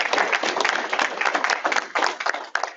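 Applause from a small audience at a Rotary Club meeting after a presentation, a steady dense patter of many hands clapping close by for a few seconds.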